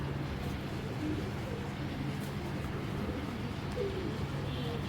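Soft, low pigeon coos from a strong-bodied black checker racing pigeon, faint and repeated under a steady background hiss, with light murmurs around it.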